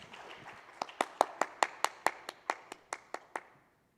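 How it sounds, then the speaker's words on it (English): Clapping welcomes a speaker at a Taiwan-Germany smart machinery forum: about a dozen sharp, evenly spaced claps, moderately close, fading out toward the end, with no talk over them. "Please let us welcome Mr. Erdo Elver with our applause as well."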